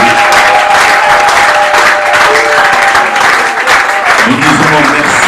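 Congregation at a church service applauding and acclaiming together, a dense, loud, steady wash of clapping and raised voices with a sustained tone running beneath, continuing throughout without pause.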